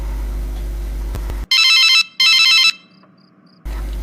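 A telephone rings as a call is placed, two loud electronic ring bursts separated by a short gap, cutting in after a stretch of background sound and followed by near silence.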